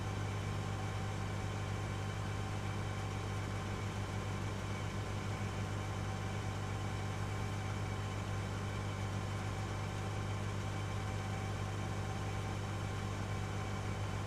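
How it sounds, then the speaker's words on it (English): A quad-track tractor engine in Farming Simulator 25 drones steadily at idle, a constant low hum with a strong bass tone, heard alone and unchanging throughout. "I've never driven the quad tracks yet. FS25. They definitely have different sounds,"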